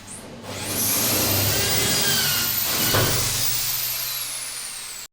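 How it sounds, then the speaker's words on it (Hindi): A Bosch 500W drill bores into a wooden door, a steady close whirring grind that starts up, holds at a fairly constant pitch for several seconds and then stops abruptly. "मिस्त्री साहब लकड़ी के दरवाजे में ड्रिल कर रहे हैं"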